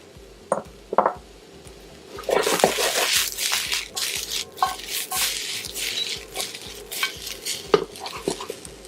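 Kale tossed into a pan for a tofu stir fry brings scraping utensil strokes and clatter against the pan over a faint sizzle, irregular and close, starting after a couple of light knocks.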